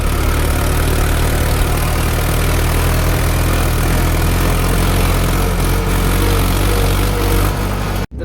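A tractor engine idles loudly and steadily on a farm site where a trolley is being loaded, a continuous low rumble that cuts off abruptly at the very end.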